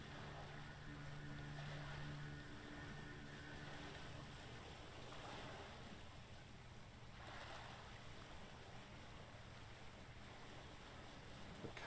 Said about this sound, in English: Calming sounds of the sea